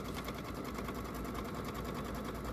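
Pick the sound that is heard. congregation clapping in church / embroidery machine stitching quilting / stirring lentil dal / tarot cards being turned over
embroidery machine stitching quilting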